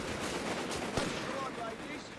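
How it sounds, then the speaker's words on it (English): Machine gun fire in the real-time strategy game Company of Heroes 3, heard as faint, rapid bursts with one sharper crack amid a dense, hissy battle din. "Bloody machine gun!"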